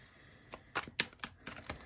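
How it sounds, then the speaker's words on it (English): Tarot cards being shuffled by hand give a few quick, crisp riffling bursts, close and fairly quiet, with no talking. "I'm going to shuffle again because that was a lot of cards."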